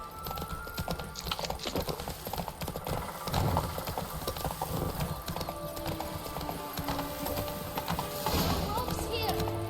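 Horse hooves clip-clop steadily in The Witcher 3 as a rider moves along, a continuous trotting rhythm heard under game dialogue and background music.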